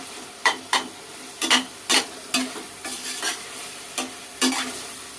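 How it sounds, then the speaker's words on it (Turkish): Tomatoes with tomato and pepper paste sauté in a pan for eggplant moussaka, a low sizzle broken by a spoon scraping and stirring in short, irregular bursts. "Salçayı da kavuruyoruz."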